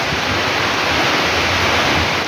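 Strong typhoon wind and rain roar as a dense, steady broadband rush, loud and close for a couple of seconds, with no talking.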